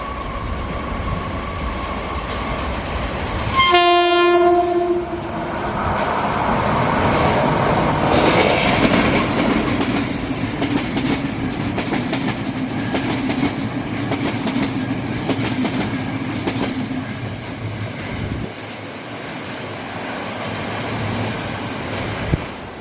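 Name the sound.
train passing on the Pingxi Line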